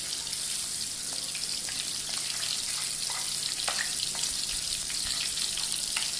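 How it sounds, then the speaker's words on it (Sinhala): Dried shrimp fry in hot oil in a pan as the first step of tempered chickpeas, a loud steady sizzle with scattered pops and crackles, close by and free of talk. "ඔන්න දැන් මගේ කූනිස්සෝ ටික බැදෙනවා"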